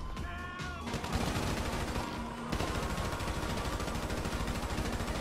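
Video game gunfire from a weak gun in GTA 5 rattles in rapid, continuous bursts. A short pause near the start gives way to sustained automatic shooting that is fairly loud and close, with no speech.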